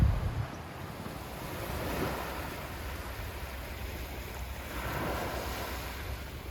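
Sea waves wash onto the wide, shallow sandy Ileh beach on Seungbongdo island off Korea's west coast, a continuous soft surf swelling and receding, close by and mixed with gusting wind noise. There is no talk.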